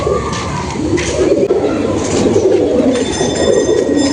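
Madras pigeons coo continuously at close range, their low, throaty rolling calls overlapping and dominating, with faint higher bird chirps in the background.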